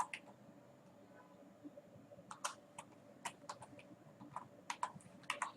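Scattered clicks of a computer keyboard as C# code is typed, keystrokes arriving in uneven clusters that quicken near the end, fairly quiet against a steady faint hum.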